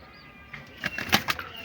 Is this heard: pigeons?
yes